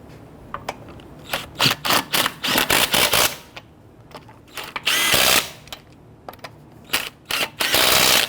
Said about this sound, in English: When tightening down the lug nuts, you want to do it in a crisscross pattern.